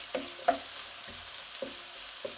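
Vegetables frying in a pan, a soft, steady sizzle with several clacks of a utensil stirring them, close by and with no talk.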